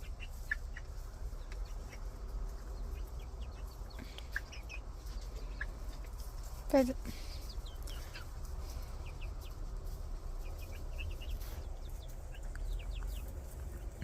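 Occasional soft clucks and a brief louder squawk from chickens nearby, with faint birdsong and steady low background rumble throughout.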